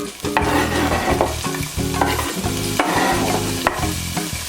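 Garlic, hot pepper and green onion stir-frying in a hot pan, loud steady sizzle broken by repeated scraping strokes of a utensil stirring the ingredients, close and with no talking.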